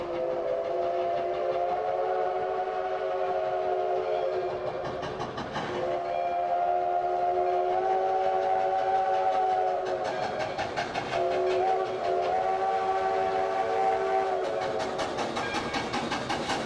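Steam locomotive number 93 sounds its whistle in long, sustained blasts with brief breaks, carrying loudly in a winter setting over the low chuff and rumble of the running train.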